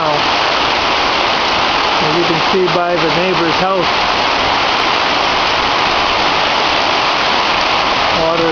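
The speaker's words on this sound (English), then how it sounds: "Had about a week of rain, and it is really coming down now." Heavy rain pours down in Pak Phanang, Thailand, a loud, dense, steady hiss close by throughout, with someone talking briefly over it partway through.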